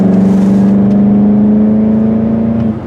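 A Volkswagen GTI in sport mode accelerates hard, its engine droning loudly and steadily from inside the car before easing off at the end.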